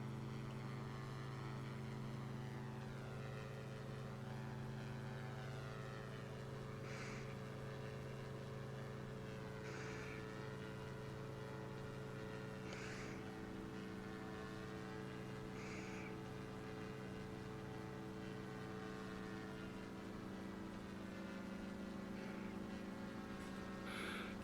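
Steady propeller-plane engine drone from X-Plane 11, a takeoff and climb toward a mountain with gear and flaps coming up, holding a constant hum with faint periodic higher whooshes, loud and continuous with no talk.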